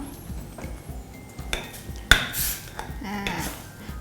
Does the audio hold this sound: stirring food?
yes